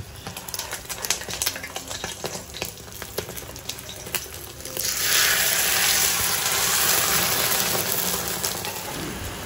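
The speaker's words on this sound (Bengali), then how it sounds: "গরম গরম ডিম ভেজে নিলাম" Eggs fry in a hot pan, a soft crackle at first that turns into a loud, steady hiss of sizzling oil for the last few seconds, with no voices.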